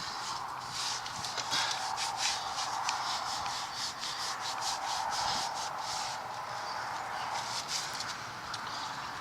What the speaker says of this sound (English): grab some Scotch-Brite and clean that off so when the new one goes on, It's all nice and smooth